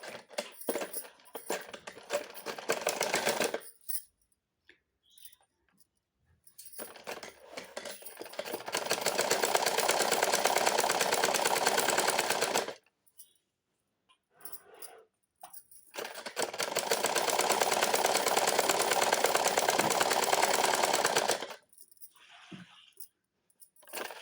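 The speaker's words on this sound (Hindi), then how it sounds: "अब हम यहाँ पे सिलाई लगाएंगे" A sewing machine stitches fabric to make a drawstring channel, running in three long motorised bursts separated by pauses filled with handling clicks and rustles, loud and close.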